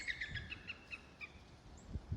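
Birds chirping outdoors on public land, a series of faint, repeated high tweets in quick rhythm over quiet low rumble, distant and soft with no talking.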